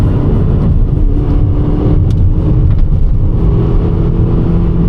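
An old Toyota Yaris engine revs hard while being driven, a loud steady drone with brief surges of acceleration and road noise throughout.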